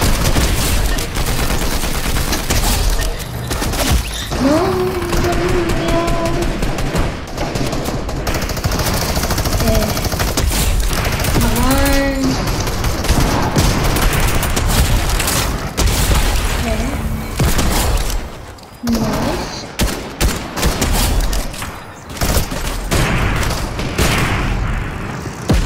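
Rapid automatic gunfire and booms from a shooting video game, dense and loud throughout, with bursts of fire and some sound effects and voices mixed in.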